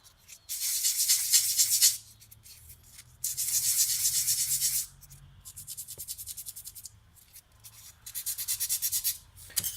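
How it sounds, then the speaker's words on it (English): Edge of a curved diorama accent piece being sanded by hand, close rhythmic rasping strokes in four bursts with short pauses between them. "you're probably going to want to, sand this a little bit."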